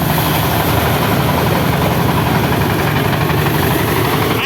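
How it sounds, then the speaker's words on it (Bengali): A rice threshing machine's engine runs outdoors on a foggy morning beside wetlands. It keeps up a loud, continuous, rumbling drone throughout. "এখানে ধান মাড়াই চলতেছে"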